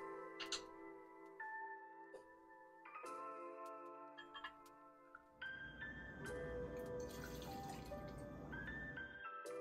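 Botanist gin is poured into a jigger for a Rosemary Gimlet cocktail, giving a series of soft glugging trickles and liquid tones, with a denser splashing pour toward the end; quiet and close.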